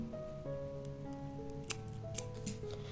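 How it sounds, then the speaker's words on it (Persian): Scissors snip through knitting yarn during a crochet pencil-case project, giving a few sharp, close clicks over a quiet room with faint tonal background hum. "خب اینجا نختون رو قیچی کنید"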